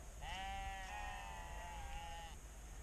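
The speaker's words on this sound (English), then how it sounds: "The sheep are going for it big style." Sheep bleat by Loch Slapin on the Isle of Skye, one long wavering cry stretching over about two seconds, fairly close and clear over steady outdoor background noise.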